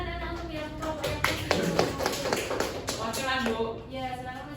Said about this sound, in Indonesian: Silakan beri tepuk tangan anak-anak untuk yang kelompok